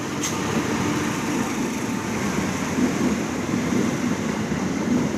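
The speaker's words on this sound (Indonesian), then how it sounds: "Ini ada kereta api Parcel teman-teman." A steady, dense rumble and rattle of a passing green cargo train on an Indonesian railway, continuous and fairly loud throughout.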